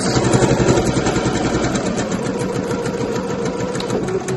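Sewing machine stitching a kid's tote bag, running steadily and loud at close range with a continuous fast mechanical whir, no pause in the stitching throughout.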